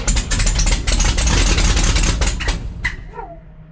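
A 1968 International farm truck engine fires up and runs choked, a steady loud mid-low idle with uneven knocking pulses, then settles and fades near the end, with no talk.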